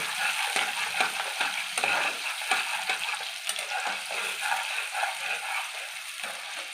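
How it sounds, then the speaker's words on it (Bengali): Ginger and green chili paste frying in a pan while being stirred, with a close, bright sizzle broken by repeated scraping strokes of a spatula in an uneven rhythm, no talking. "আদা কাঁচা লঙ্কা পেস্ট করবেন ভালো করে কষিয়ে নিতে হবে"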